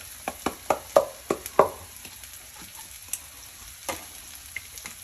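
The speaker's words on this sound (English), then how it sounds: "that little sizzling right there" Onions and carrots sizzling in a hot pan with a series of sharp crackles and pops, quicker at first and then sparser, over a faint hiss.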